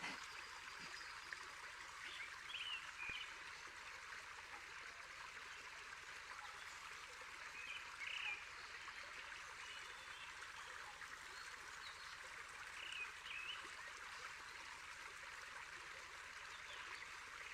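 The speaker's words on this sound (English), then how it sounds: "Are you outside or just white noise? It's noise from this world. I mean, it's water." Water flows steadily outdoors in a continuous, even trickling stream that runs unbroken throughout, with a few faint high chirps above it and no talk.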